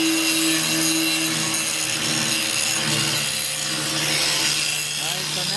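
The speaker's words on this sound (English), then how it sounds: "now he's grinding the inside of this frame." A grinder works on the inside of a Chevy C10 truck frame during an axle flip install, a loud harsh steady metal grinding that runs for several seconds with a slight shift in pitch near the end.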